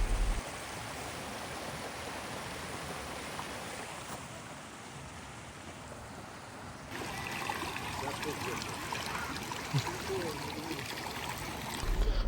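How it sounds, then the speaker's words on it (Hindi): Continuous rushing water of a mountain stream in Swat Valley, Pakistan, broadband and fairly loud, with the texture shifting midway, as if heard from a slightly different spot. "पानी के जा बजा चश्मे हमारे शरीके सफ़र हैं।"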